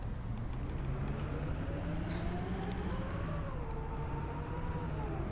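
Neoplan N4016 city bus engine in the Omsi 2 simulator, a continuous low drone with a slowly rising and falling whine as the bus moves along a suburban line, steady and fairly loud, no talking.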